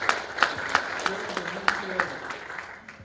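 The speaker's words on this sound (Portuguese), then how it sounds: "Uma salva de palmas para os dois" Scattered applause at a Masonic conference hall, a modest number of sharp individual claps with a voice talking over them, fading toward the end.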